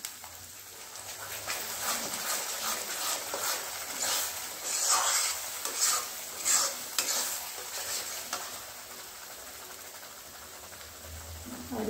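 Cumin and black pepper powder fry in a pan for an egg curry, a soft sizzle under frequent clattering stirs, louder scraping bursts in the middle and faint background noise.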